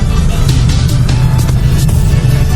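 Heavy festival traffic crawls through the streets of Angono, Rizal, during the Higante Festival, a steady close rumble of idling and creeping engines with faint voices mixed into the din.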